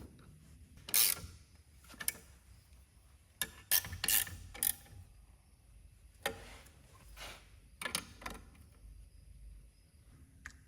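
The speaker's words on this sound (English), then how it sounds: "All right, I'm gonna tighten that down, and then we'll put that master cylinder on." Intermittent ratchet clicks tightening bolts on a Tesla / Bosch Gen 2 I-Booster being installed in a 1970 Monte Carlo, short bursts of quick clicks separated by quiet pauses, close and moderately loud.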